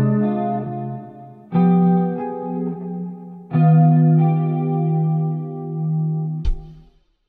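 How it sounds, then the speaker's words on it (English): Electric guitar plays a minor 2-5-1 progression with effects-laden chords, three strummed chords each left to ring and sustain, ending in a sharp string click and sudden cutoff. "And yeah, in a minor 2-5-1 kind of context, it sounds like this."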